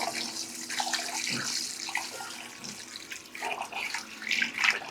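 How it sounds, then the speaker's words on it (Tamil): Rice being washed in water while preparing chicken biryani in a home kitchen, with close, continuous splashing and sloshing that rises and falls over a few seconds, no voices. "இப்போ இதை வந்து நம்ம கழுவிட்டு நல்ல தண்ணியில் கழுவணும்"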